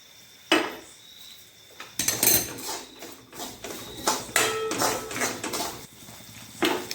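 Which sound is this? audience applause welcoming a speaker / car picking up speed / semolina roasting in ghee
semolina roasting in ghee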